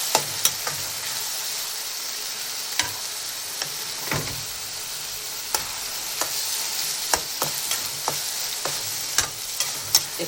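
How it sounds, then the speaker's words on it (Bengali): Dried puti fish with pink Himalayan salt sizzles in a pan under steady stirring, a continuous frying hiss punctuated by irregular sharp clicks and scrapes of the utensil against the pan, close and moderately loud. "এখন আমরা এটাকে কিছুক্ষণ নাড়াচাড়া করব।"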